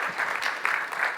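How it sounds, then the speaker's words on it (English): Applause from an audience at a WordPress conference talk, a brief, moderately loud burst of many hands clapping in a hall. "Can we get an applause for him, please?"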